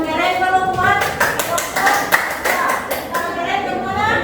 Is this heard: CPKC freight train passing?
no